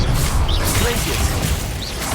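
Hogwarts Legacy combat with the Glacius freezing spell: a busy wash of crackling, crunching magical impacts and whooshes, with bright chiming sparkles rising twice, loud and continuous throughout.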